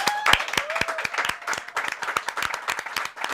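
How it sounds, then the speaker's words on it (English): Studio audience applause at the close of a comedy talk show: lively, continuous clapping with many sharp individual claps close to the microphone, holding steady for a few seconds. "We always end our show, we all applaud"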